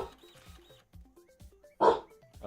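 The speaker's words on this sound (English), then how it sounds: "What you barking at?" A pet dog barks indoors, a few short sharp yips among quieter whimpering sounds, moderately close, with one louder bark near the end.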